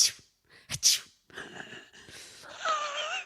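A person imitates a baby opossum's sneeze with two quick, breathy sneezing bursts, then talks softly afterward.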